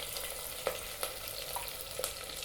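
Small shallots and curry leaves sizzling in hot oil in a pan, a steady crackling hiss broken by a few sharp pops and stirring clicks.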